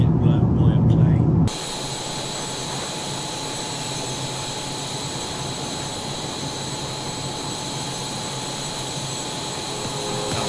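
An airliner in a flight simulator game makes a low approach over Maho Beach. A steady, loud jet engine roar holds from start to finish, with a brief louder burst at the very beginning.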